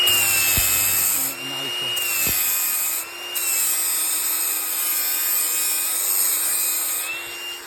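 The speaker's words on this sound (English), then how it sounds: "I've just put a brand new 40 grit flap disc on by our friends at Klingspor. I'm just going to do the flat edges" An angle grinder fitted with a brand-new 40-grit Klingspor flap disc tidies the flat edges of metal. It gives a loud, continuous high whine and grinding rasp that dips briefly as the disc lifts off and bites again.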